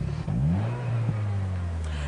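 A Vauxhall Vectra SRi's 145-brake 2.2-litre engine, an old and worn example, revs up in a smooth, rising drone, loud and close with no talk over it.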